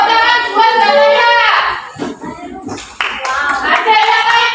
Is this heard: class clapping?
yes